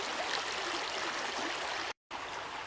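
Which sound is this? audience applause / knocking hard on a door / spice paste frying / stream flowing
stream flowing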